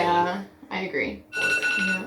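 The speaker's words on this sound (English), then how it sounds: "That's my alarm." A phone alarm rings in a home during a renovation, its bright, repeating electronic tone sounding in short bursts while people talk over it nearby.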